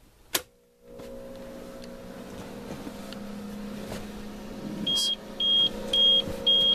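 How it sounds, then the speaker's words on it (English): A UPS power backup system during a simulated power failure: a sharp click, then a steady electrical hum, followed by a series of four short, evenly spaced high beeps near the end. "These will always beep"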